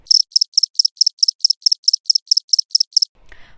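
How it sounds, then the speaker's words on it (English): Crickets chirp in a steady, evenly spaced series of about fourteen bright, high trills, close and clear, then cut off abruptly and leave faint low rumble. "nothing, crickets."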